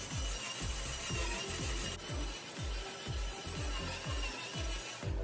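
A steady, rhythmic grinding of a tool biting into wood, with regular low churning strokes repeating about twice a second, close by and continuous.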